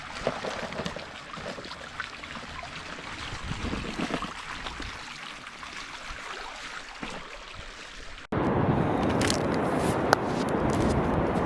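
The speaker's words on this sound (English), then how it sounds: "Alright, I'm on the beach." Water washes and rushes on a New Zealand beach where the road ends near Cape Reinga, as a steady broadband wash that grows louder and fuller in the last few seconds.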